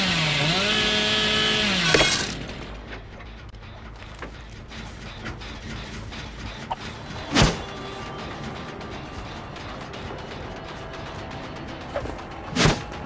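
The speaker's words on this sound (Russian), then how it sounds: "Надо еще разобраться, как эта пила работает." A chainsaw in the video game Dead by Daylight revs loudly for about two seconds and then cuts off, followed by quieter game ambience with a few sharp thuds and clicks.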